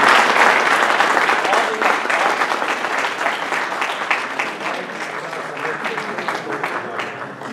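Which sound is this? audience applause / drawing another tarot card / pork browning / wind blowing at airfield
audience applause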